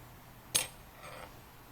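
A metal spoon snaps onto a magnet with a single sharp, bright clink, followed by a faint brief rattle, close and isolated in a quiet room.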